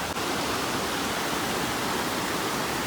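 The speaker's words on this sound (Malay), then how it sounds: "Tu kat bawah sungai." A small river flowing, a dense, even rush of water heard close and fairly loud with no break and no voices.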